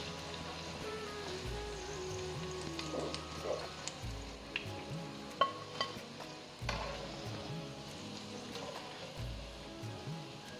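Banana flower vadas fry in hot oil, giving a soft, steady bubbling sizzle with scattered crackles and occasional clinks, fairly quiet and with no speech.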